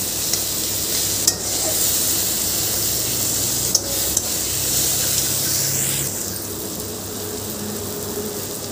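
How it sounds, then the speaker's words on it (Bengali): Taro stems fry in a pan, a dense, even hiss of sizzling oil that continues steadily with a couple of faint clicks of stirring. "কচুটাকে ভাজতে হবে কিছুক্ষণ ধরে।"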